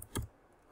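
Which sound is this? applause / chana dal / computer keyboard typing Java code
computer keyboard typing Java code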